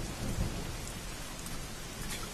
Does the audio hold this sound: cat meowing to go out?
no